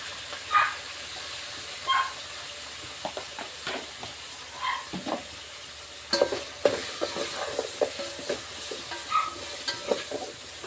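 Sambar in a pan is stirred with tamarind, giving soft, irregular scraping and sloshing strokes over a faint background sizzle, fairly quiet and close, with no voices.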